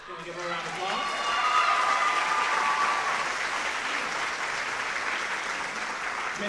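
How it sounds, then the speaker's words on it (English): An audience at a high school choir fall concert applauds a choir student, a thick sustained clapping that swells after a second and holds steady, with a few voices rising faintly at the start. "Can we give her a round of applause?"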